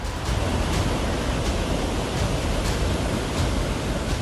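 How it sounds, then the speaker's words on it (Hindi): Rushing floodwater of the swollen Narmada river, running high after heavy rain in hilly country, makes a dense, loud, unbroken roar that fills the whole clip with no voices. "पानी का उफान इतना तेज है कि मानो सब कुछ डुबोने पर आमदा हो"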